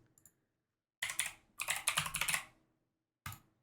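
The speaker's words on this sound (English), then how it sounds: "Yeah, so you just type in Renegade" Quick typing of a short command on a computer keyboard, a few faint taps and then two dense bursts of rapid clicking keystrokes, close and crisp, ending with a single louder key press.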